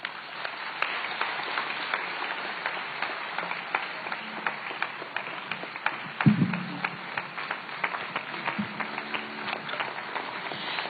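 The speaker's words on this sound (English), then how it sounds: "A round of applause, ladies and gentlemen." An audience claps steadily at the close of the 14th Prof. John Attah Mills Commemorative Lecture, a dense patter of hands going on for several seconds with a brief louder thump partway through.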